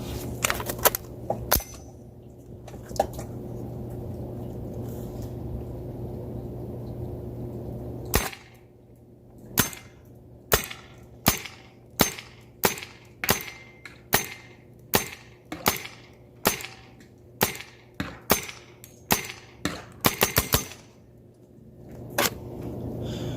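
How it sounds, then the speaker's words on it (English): A First Strike T15 paintball marker fires regular paintballs outdoors: sharp, loud pneumatic pops, a few early shots and then a fairly regular series of about fifteen rapid single shots over a steady low background hum. "let's take this thing outside and shoot it a little bit"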